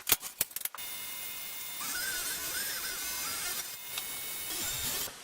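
A table saw or circular saw ripping a plywood sheet into narrow shelf strips for a shop screw rack, a steady loud whine held for about three seconds after a few sharp knocks at the start.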